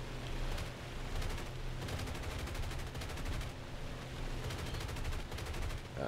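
Anti-aircraft artillery fire in an air, ground and naval combat game, rapid repeated bursts of shots coming in clustered volleys, steady and fairly distant under a constant rumble.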